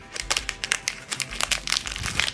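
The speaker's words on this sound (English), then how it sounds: "This one is wrapped in a dime bag. That's interesting. It's double bagged." A double-bagged item is unwrapped from its plastic bag, giving close, irregular bursts of crinkling and rustling that come in quick clusters throughout, with no talking.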